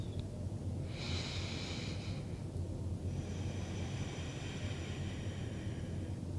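Slow, calm breathing during meditation: a short, airy inhale followed by a long, soft exhale, close but faint over a low steady hum.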